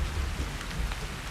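Rain pours down steadily in a dark horror film scene in the woods, a dense, even hiss with low rumbling underneath, fairly loud and continuous over a short stretch.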